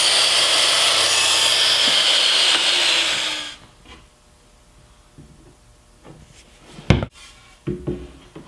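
Hand saw cutting a miter on the end of a 1x2 piece of wood for the head of a ping pong tabletop, a loud steady rasping for about three seconds, then quiet with a few scattered knocks and handling sounds.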